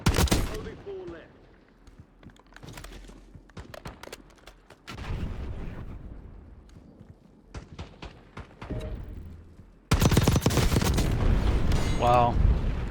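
Model L rifle fire in a video game, bursts of sharp shots and booms scattered across the scene, with a loud dense burst near the end and some speech mixed in.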